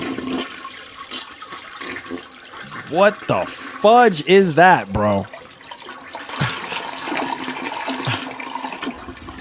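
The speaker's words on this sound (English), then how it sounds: "Another flush." A toilet flushes with a loud rushing, gurgling wash of water, while excited voices talk and exclaim over it.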